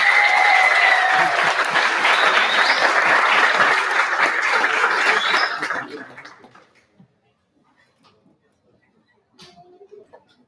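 Audience applause at a startup demo day, loud sustained clapping from a crowd that fades out after about six seconds into near silence, followed by faint small sounds.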